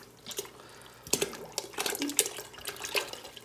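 Cartons of 10% cream pour into a soup pot for potato leek soup, giving soft liquid splashes, drips and occasional light clinks of the pot in irregular bursts, fairly quiet and close.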